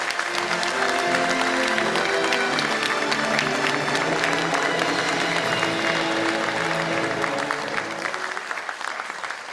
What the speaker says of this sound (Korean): 모두 큰 박수로 호응해 주십시오